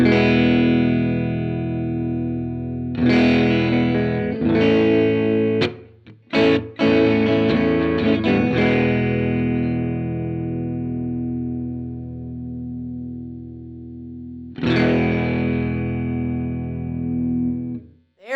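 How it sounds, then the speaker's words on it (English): Sustained electric guitar chords shimmering through a TC Electronic SCF Gold Reissue chorus pedal at high intensity, with brief gaps and a few sharp plucked accents, loud and close, no voices. "let's just go ahead and start cranking the intensity of this chorus to see how it sounds."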